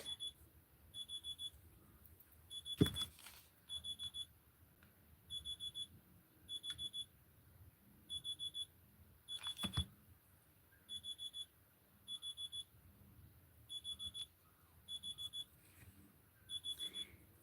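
An alarm beeps in a steady repeating pattern, short clusters of high electronic tones spaced about a second apart, with a couple of brief bumps in between and no talking.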